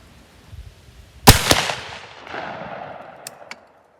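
A Federal 10 gauge slug fired from a shotgun at an outdoor range, one sharp loud blast followed by a quick echoing crack and a rolling tail that fades out.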